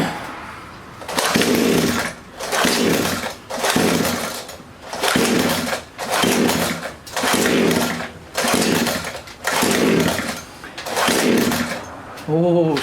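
A Talon nitro RC car engine runs in repeated loud, buzzing bursts, revving and dropping back about a dozen times in close succession, with a brief rattling sputter near the end.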